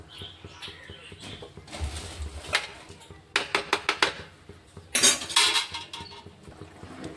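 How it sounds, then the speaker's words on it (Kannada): A spoon stirs chicken green gravy in a pot with turmeric, making quick bursts of metallic scraping and clinking against the pot, close and fairly loud, between quieter pauses. "ಇವಾಗ ಚಮಚಲ್ಲಿ ತಿರುವಿ ತೊಗೊಂಡಿನಿ"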